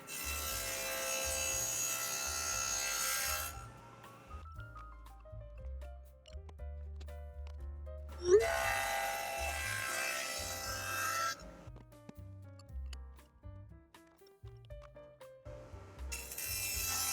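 Dado stack on a table saw cutting notches into pallet wood drawer fronts and backs: loud bursts of cutting alternate with quieter spin-down and workshop handling sounds, no talking.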